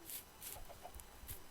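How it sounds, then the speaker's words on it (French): Quiet, short clucks from a hen in a video game, a few soft bursts in quick succession over faint background noise. "J'amène une poule."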